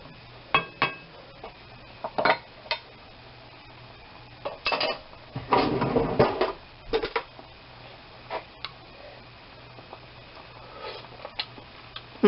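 Metal spoon clinking and scraping against a cooking pot while stirring turnips, a string of sharp, close taps and a brief busier burst of scraping, with quiet pauses between.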